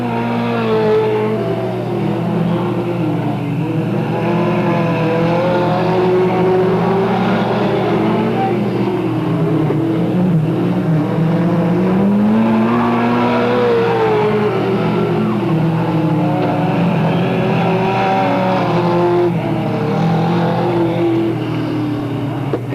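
Race cars roaring around the Delta Speedway oval during a 1996 race, a continuous loud engine drone with rising and falling pitch as cars accelerate down the straightaway, dense and unbroken.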